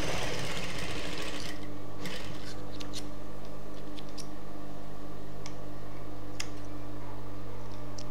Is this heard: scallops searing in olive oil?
no